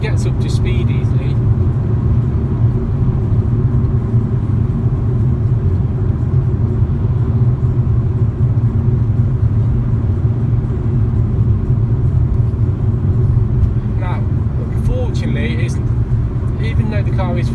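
A 2019 MG ZS petrol SUV hums and rumbles steadily as it accelerates, a constant low engine and road drone heard from inside the cabin, with a few faint higher chirps near the end.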